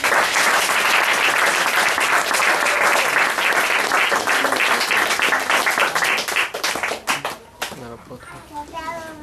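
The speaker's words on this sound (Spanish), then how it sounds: "Denle el aplauso al Señor" A church congregation bursts into loud, sustained applause and clapping, dense and close, with children's voices mixed in, then thins out near the end as a voice starts speaking.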